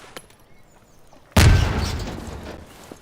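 A single sudden boom from an in-game explosion, loud and close, followed by a rumbling decay after a quiet lead-in.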